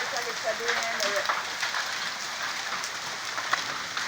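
Hail from a storm pattering steadily on surfaces around a driveway, a dense even rattle throughout, with a voice speaking briefly near the start.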